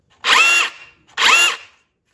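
A DEWALT 20V MAX SDS cordless rotary hammer drill on a 5 amp battery runs in two loud, close bursts of about half a second each, a harsh high whine with a short pause between them and no talk.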